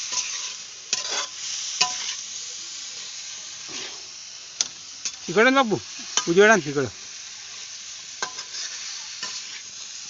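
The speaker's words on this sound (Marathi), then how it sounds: "आता भाजीची फोडणी" Vegetable tempering frying in hot oil in a home kitchen, a faint steady sizzle broken by clinks of a stirring spoon, with someone speaking briefly over it.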